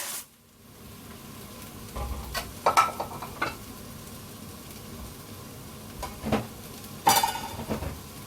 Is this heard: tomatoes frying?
yes